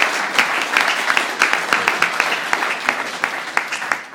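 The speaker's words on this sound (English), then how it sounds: "One more round of applause for Alex." A conference audience applauds a game demo presenter, a dense burst of many hands clapping that swells and fades over a few seconds.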